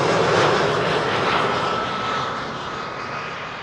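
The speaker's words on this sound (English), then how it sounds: "EasyJet arrived for Gatwick," An EasyJet Airbus A319 arriving at Amsterdam Schiphol gives a broad, steady jet roar that fades slightly as it passes, with no talk.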